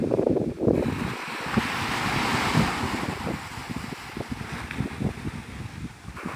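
Ocean surf and breezy wind at Navarre Beach, Florida: waves wash in and out while gusts buffet the microphone, rising and falling throughout the clip with no voices.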